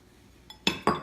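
Two sharp clinks of a utensil against a bowl as teff flour and cocoa powder are combined for brownies, close and crisp, following a faint tap in a quiet kitchen.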